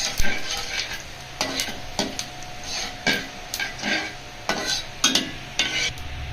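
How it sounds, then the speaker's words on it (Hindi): Cumin seeds roasting in hot oil for a Punjabi chana daal with lauki, steady close sizzle broken by repeated stirring scrapes and clinks of a spoon against the pan, no voices. "और ज़ीरा ऐड करके हम इसे रोस्ट करेंगे।"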